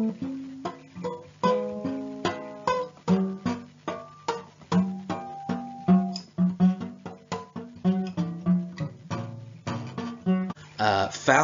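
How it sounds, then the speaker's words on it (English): A guitar prepared with a rubber band and a pencil across the strings is plucked in quick, uneven succession, producing short, damped, percussive tones that sound muted and clanky rather than ringing, with no talking. "here I have what you might call a prepared guitar using a rubber band and a pencil"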